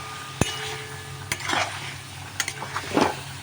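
Chicken stirred in a pan with ginger, onion and garlic paste, with spoon scrapes and clinks against the pan: a sharp clack near the start, then scraping strokes and small clatters over a soft sizzle, with no voices.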